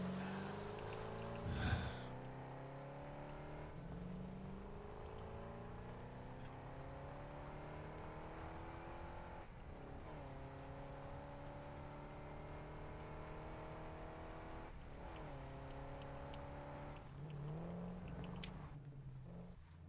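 A small car's engine runs steadily in the factory-building video game Satisfactory, a faint droning hum with shifting pitch as it revs up and down, heard alone without talk.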